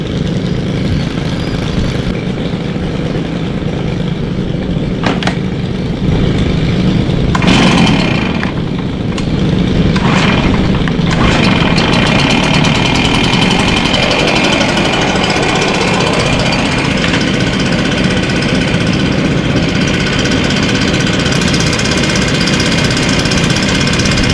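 Several Stihl outdoor power tools run together loud and close: FS91R weed eaters, an FC111 edger and a BR430 leaf blower, their small two-stroke engines droning and buzzing steadily throughout.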